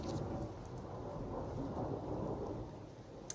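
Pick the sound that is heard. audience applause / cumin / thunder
thunder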